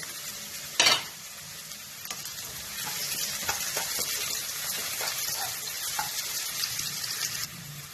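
Small onions and carrots frying in a pan for fried rice, with a steady bright sizzle and occasional stirring scrapes, plus a sharp clatter near the start.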